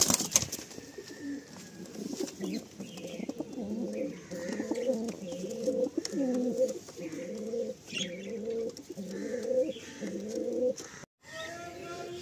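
A Giria pigeon pair coos steadily in repeated low rolling phrases, close and clear, with faint background chirps and a brief dropout near the end.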